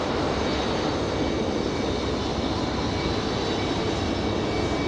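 A Breeze Airways airliner taxis up the hill to Terminal 1 at Raleigh-Durham airport, its engines giving a dense, even roar that holds steady and close.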